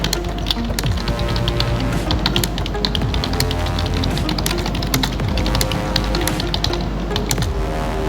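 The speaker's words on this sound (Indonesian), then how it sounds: "Nah, baru kita ketik." Fingers type on a computer keyboard, a dense, steady stream of quick clicking keystrokes throughout, close and moderately loud over a constant low hum, with no talking.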